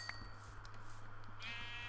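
A sheep bleats in the Minecraft video game, a short wavering cry near the end over a steady low hum and quieter background game sounds.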